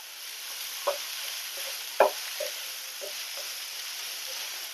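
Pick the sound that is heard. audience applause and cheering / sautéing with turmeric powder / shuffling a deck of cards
sautéing with turmeric powder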